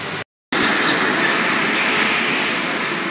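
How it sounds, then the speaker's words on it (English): An RER train in a Paris station roars loudly with a steady rolling rush and wheel rumble after a brief cut to silence, running continuously with no voices. "So I'm letting the train clear out,"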